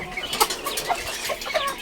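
Polish chickens, a breed being paired to avoid inbreeding, give soft, scattered clucks and short calls, fairly close and moderately quiet, with no voices.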